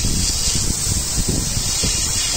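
A spray can sprays a steady, continuous hiss of cleaner over a Ford 3.5 EcoBoost engine bay. The spray is close and fairly loud, with light uneven spatter underneath.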